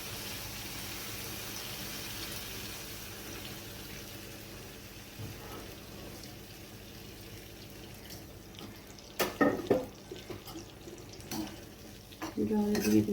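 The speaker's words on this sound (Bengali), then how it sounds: "এবার আমি এতে দেবো জল, পরিমাণ মতো জল দেবো" Water poured into a pot of simmering soybean and potato curry, a steady splashy wash throughout, followed by a few clinks and stirring knocks of a utensil against the pot near the end.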